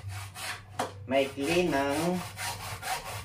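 A hand saw rasps back and forth through a workpiece with a plumber's tools at hand, in rhythmic close strokes. Someone speaks over the cutting.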